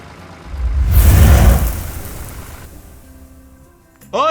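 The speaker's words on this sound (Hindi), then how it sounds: "सोहन उस जादुई 8 चक्के वाले ट्रैक्टर में बैठता है और सीधे ही उस जमींदार के घर पहुंचता है।" A cartoon magic eight-wheel tractor drives off in a loud whooshing surge that swells, then fades to a low rumble before a new sound cuts in at the end.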